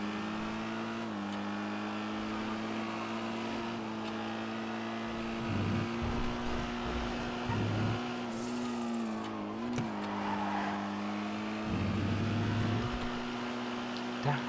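A race car engine in the GTA FiveM video game drones steadily at high revs, its pitch shifting slightly with gear changes and throttle lifts, with a continuous hum in the background.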